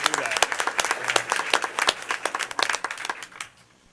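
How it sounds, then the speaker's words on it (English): Audience at a school board meeting applauding for parents, a brief round of separate hand claps from a modest-sized group that thins out and stops near the end. "let's have a round of applause for the parents"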